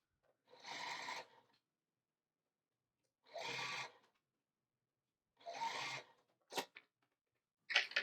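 A sewing machine joins quilt block pieces in three short runs of buzzing stitching separated by silence, followed by a couple of sharp clicks.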